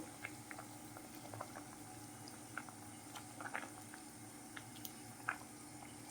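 A fish curry broth with hog plums simmers in a pan, a soft continuous bubbling with scattered small pops and gurgles, close and fairly quiet.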